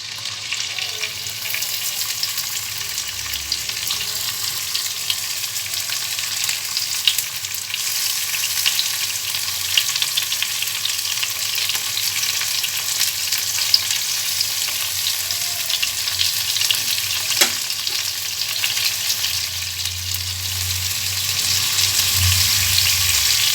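Chicken shashlik skewers fry in a pan over medium-low heat, a loud, continuous sizzle with crackling spatter that holds steady and swells slightly toward the end, with no voices.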